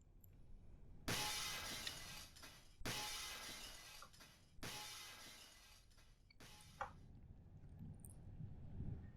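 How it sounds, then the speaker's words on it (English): Glass shatters four times in quick succession, each a sharp, bright crash that decays into tinkling shards, the last smaller and followed by a few clinks and scattered debris, with no voices. "they could hear the faint sound of glass breaking"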